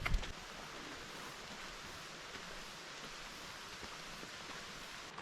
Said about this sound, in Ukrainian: От, не встиг ляпнути, вже дощ пішов.